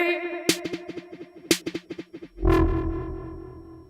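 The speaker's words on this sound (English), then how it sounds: "it's a delay that can be used as a reverb" A short plucked musical phrase run through a Soundtoys EchoBoy delay plugin in rhythmic mode; notes repeat in quick rhythmic echoes, stacking up before a brighter reverb-like wash of sound swells and sustains.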